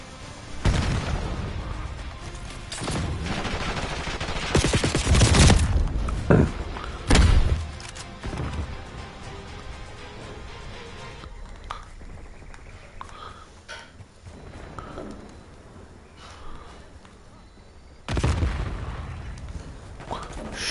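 Bomb blasts and gunfire from online play in Call of Duty Black Ops 6, with loud booming bursts and shots clustered early, a quieter stretch of scattered hits, then another heavy burst near the end.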